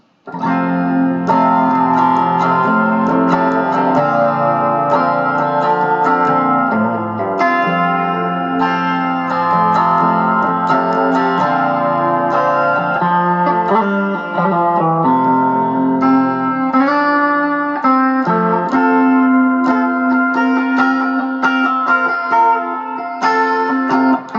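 An electric guitar through a Line 6 Spider V 240 amp plays sustained chords and notes drenched in shimmering chorus, tape-style echoing delay and a wide, washy vintage hall reverb, loud and alone.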